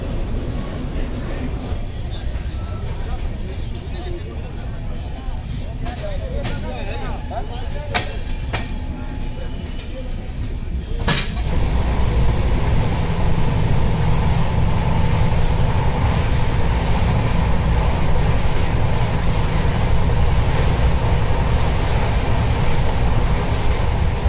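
The Gorakhpur-Mumbai Ratnagiri Superfast Express pulls out of Deoria Sadar station, its rolling rumble and wheel clatter growing louder and steadier after about eleven seconds, heard from on board with faint voices around.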